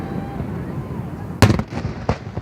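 Booster Day celebration fireworks over the Hudson, heard from a sailboat: one sharp loud bang followed by several fainter crackling bursts, over a steady low background rumble.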